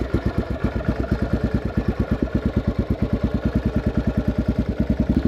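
A Yamaha XT600 motorcycle engine idles after a kick start, loud and close, with a steady, even thumping pulse of rapid, regular single-cylinder beats and no talk.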